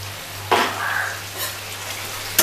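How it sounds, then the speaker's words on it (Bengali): Mutton sautéing in a pan with ginger paste, a sudden sizzle burst near the half-second mark that settles into steady frying crackle, with a steady low hum underneath and another sharp sizzle flare at the end. "দিয়ে মাংসটাকে আমি একটু ভালো করে কষিয়ে নেব"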